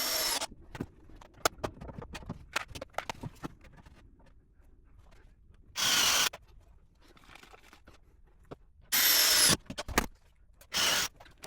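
Power drill driving into a wooden reinforcement on a salvaged seedling and potting table, three short loud whirring bursts separated by quiet stretches with small knocks and handling noises.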